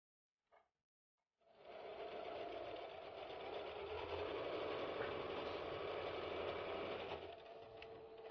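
Sewing machine closing a sock with a tubular seam in a craft workshop setting, running steadily and fairly close for several seconds after a brief tap, with an even motor hum and rapid stitching rhythm and no talk.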